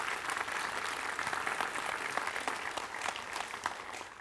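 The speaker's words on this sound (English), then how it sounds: "Please give him a round of applause." An indoor audience at a New Horizons Pluto event in Denver claps steadily for several seconds, a dense, moderately distant round of applause that fades slightly at the end.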